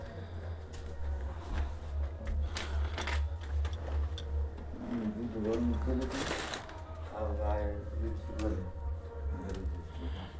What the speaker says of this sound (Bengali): একটা ব্লাউজ আমি সেলাই করছি